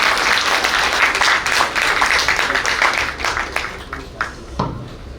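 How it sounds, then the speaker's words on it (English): Audience at a maritime symposium gives a sustained round of applause, loud and dense at first, then thinning into scattered claps as it dies away near the end. "We must give a big round of applause for Anupam."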